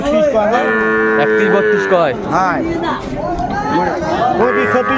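Sahiwal bull calves at a cattle market in Dinajpur moo loudly and repeatedly, their long drawn calls overlapping close by while people talk in the background.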